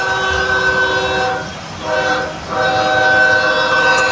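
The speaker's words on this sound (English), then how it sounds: "I like how the train passes by." A train passes close by at Oceanside station, its loud horn chord sustained with a short dip in the middle over a continuous rolling rumble.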